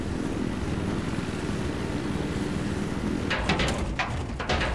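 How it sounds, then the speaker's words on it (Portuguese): In Battlefield 4, a jet aircraft roars past in a continuous loud rush, and near the end a few sharp bursts of gunfire break over it. "Fica de olho nesse jato aí."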